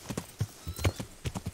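A horse trots in the Kingdom Come Deliverance video game, its hooves striking in a steady, close, rhythmic clip-clop of about a dozen beats.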